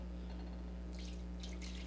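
Hot meat drippings pour through a sieve in a splashy liquid stream, with two bursts of pouring over a constant low electrical hum, close and with no talking.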